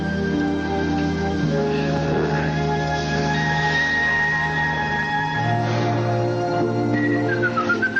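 Melodic whistling runs steadily throughout, the tune weaving over a dense, busy background, with a sliding whistled note near the end.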